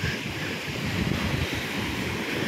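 High-tide sea waves surge across a coastal road in Konkan, a dense continuous roar of churning water mixed with wind buffeting the microphone, loud and close, no voices.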